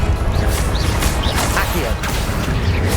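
A Confringo fire spell striking in the Hogwarts Legacy video game, heard as dense crashing, whooshing combat impacts, loud and continuous, with repeated smashing bursts layered over a rumbling low end.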